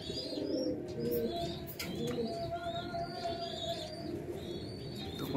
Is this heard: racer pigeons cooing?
yes